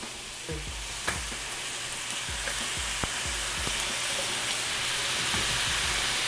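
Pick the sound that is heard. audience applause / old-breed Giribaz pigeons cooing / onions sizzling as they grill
onions sizzling as they grill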